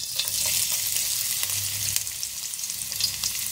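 Ginger and garlic-ginger paste frying in oil in a pan for an Old Delhi style beef pasanda, a steady close sizzle with small crackles and stirring scrapes, no talk.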